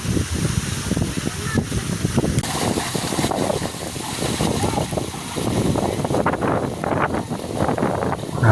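Cold wind blowing through the gap between two hills beside a newly built, still unfinished spot, roaring as steady broadband buffeting against the microphone throughout, with a voice speaking faintly beneath it.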